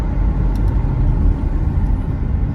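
A car moves through road traffic, giving a steady, loud low rumble of engines and tyres that continues without a break and has no voices over it.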